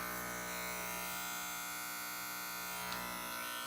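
Oscar Fast Feed hair clippers run steadily on their own, a continuous close electric buzz with a fine metallic hum and no break.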